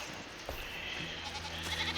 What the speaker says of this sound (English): They're such good goats.